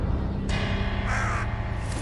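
Crow cawing as a sound effect in a spooky story, with several harsh, rasping caws over a dense, steady background rumble, fairly loud and close, with no voice over them.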